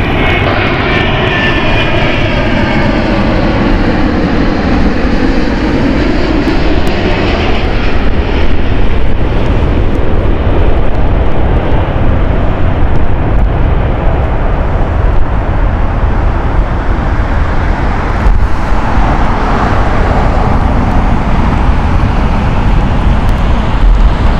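Aircraft engine roaring on the runway at Heathrow Airport, a loud continuous jet rumble with a rising and falling whine as the plane moves, steady throughout with no talk.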